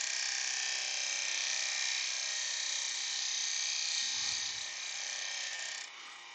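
Steady high whirring hiss of a wood lathe spinning a small laburnum bowl while a gouge cuts, continuous and fairly close, easing slightly near the end.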